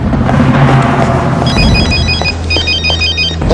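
A mobile phone ringtone sounds loud and close, a repeating electronic melodic trill pattern that starts partway through over a low background hum, without talking.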